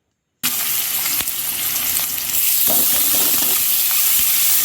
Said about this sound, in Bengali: এবার আমি আলুগুলো ফ্রাই করে নেব।